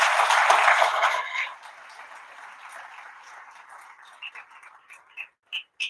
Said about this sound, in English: I would request you to give a very big round of applause to everyone.